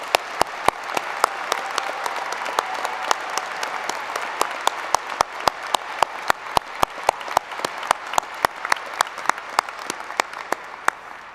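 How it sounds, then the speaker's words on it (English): At a spring engineering convocation, a large graduation audience claps steadily in a hall, a dense continuous wash of applause punctuated by sharp, louder individual claps close by. "let's give them a big round of applause to appreciate what they've done for you"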